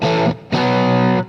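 A Stratocaster electric guitar plays through a high-gain plexi-style amp, giving two loud distorted sustained notes with a short gap between them, rich in harmonics.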